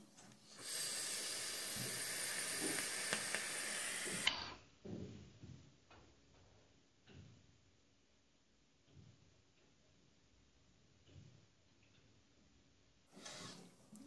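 An e-cigarette with VG-heavy e-liquid is vaped, giving a steady close hiss and crackle of vapor production for several seconds, then quieter soft puffs and faint breaths, with another hiss starting at the end.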